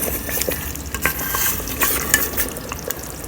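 A spoon stirs and scrapes around a pot of boiling coconut milk being cooked down for coconut oil, with soft sizzling and irregular clinks throughout.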